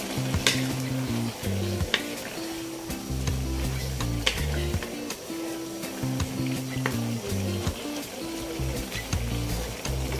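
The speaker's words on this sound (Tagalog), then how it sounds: "haluin po muna natin ulit" Food frying in a pan while being stirred, a steady close sizzle broken by repeated scraping and clinking of the utensil against the pan, with no talking.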